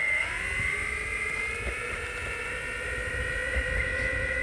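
An electric skateboard running at full throttle in pro mode, a steady high-pitched motor whine with rising tonal harmonics over rumbling wheel and road noise, continuous and close.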